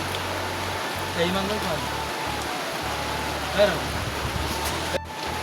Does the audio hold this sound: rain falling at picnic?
yes